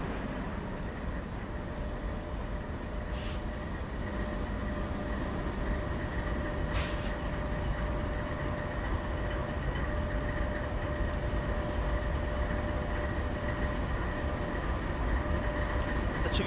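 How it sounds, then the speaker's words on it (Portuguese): Simulated train pulling into a rail yard in the Open Rails train simulator, a steady continuous rumble with a sustained tonal hum and occasional faint higher squeals, loud and even throughout with no talking. "consegue observar o trem chegando"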